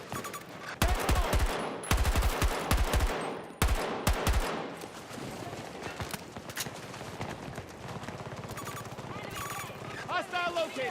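Gunfire erupts in a video game shootout, with loud sharp shot bursts clustered early and then mid-clip, followed by a sustained noisy battle bed and a voice talking over the action.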